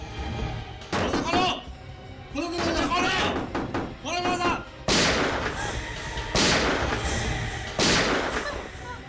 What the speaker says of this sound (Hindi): सर गोली चलने की आवाज है।